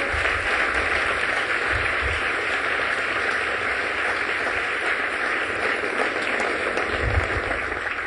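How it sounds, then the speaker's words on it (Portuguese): A congregation applauds during a sermon, a continuous, even wash of clapping that holds steady at moderate loudness from start to finish. "Dê um aplauso ao Senhor"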